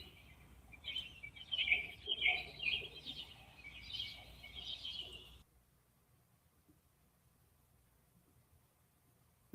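Birds sing and chirp outdoors in a bright, busy chorus for about five seconds, then abruptly fall silent, leaving near-quiet for the rest.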